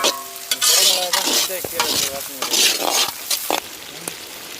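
Chopped capsicum frying in a pan for chicken Patiala, a bright close sizzle with repeated bursts of stirring and utensil scraping, growing quieter toward the end.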